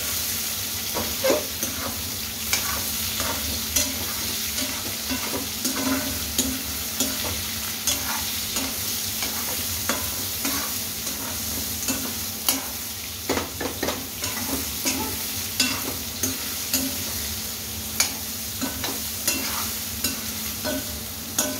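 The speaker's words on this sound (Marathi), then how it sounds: "तेलामध्ये छान असं परतून घ्यायचं ह्या वड्या" Soya chunks are stirred and fried in oil, with a continuous sizzle under frequent scraping strokes of a spoon against the pan at a steady, irregular rhythm, close and clear.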